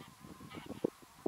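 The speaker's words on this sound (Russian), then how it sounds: "Гусиные стаи одна за одной." Flocks of geese honk during an October waterfowl hunt, a few faint, distant nasal calls scattered over a quiet outdoor background.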